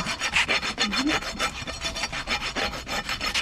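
A farrier's rasp smooths the heel of a horse's hoof in steady rhythmic strokes, each stroke a close, gritty scrape repeating about every quarter second with no talking.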